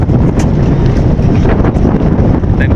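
Strong wind buffets a microphone outdoors near vehicles at a boat crossing in Marinduque, a loud, continuous low rumble with gusty pulses that fills the whole clip.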